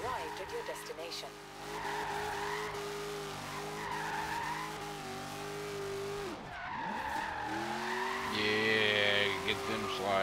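A Ford Fox Body Mustang drifting in Forza Horizon 3, its tires squealing in long sustained skids over a droning engine note that dips and rises as the car slides, loud and continuous.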